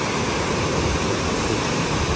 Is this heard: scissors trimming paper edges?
no